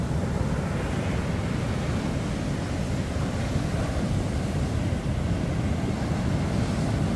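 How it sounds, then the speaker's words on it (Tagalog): Big sea waves surge in a continuous rough wash near a fishing boat, loud and close with wind buffeting the microphone and no clear break in the roar. "Grabe na yung lalaki ng alon."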